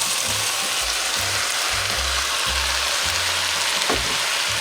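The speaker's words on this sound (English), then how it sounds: "We're also going to add in our ground beef and also our cabbage." Ground beef, celery and cabbage cooking in a pot make a loud, dense sizzle heard close up, with low thumping knocks underneath from stirring and moving the contents.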